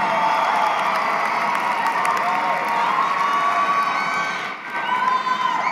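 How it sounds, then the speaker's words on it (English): A crowd at a college commencement ceremony applauds and cheers loudly, with whoops and high shouts over continuous clapping that dips briefly near the end before swelling again. "give them a great round of applause"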